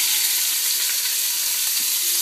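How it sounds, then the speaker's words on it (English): Organic onions and garlic sauteing in oil in a pan over moderate heat, a steady, loud, close hiss of sizzling that continues without pause and with no talk. "saute the onions and garlic here, organic, in some nice oil"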